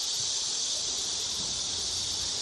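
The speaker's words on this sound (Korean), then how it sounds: "매미 소리가 장난이 아니." Cicadas buzz in a garden outside a house, a dense, steady, high-pitched drone that fills the air without a break and with no voices.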